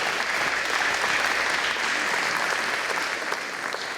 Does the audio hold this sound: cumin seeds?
no